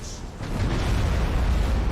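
Deep, rumbling booms from space-battle explosions in Battlefleet Gothic: Armada 2 roll continuously, dense and loud with a sustained low roar and no distinct individual blasts.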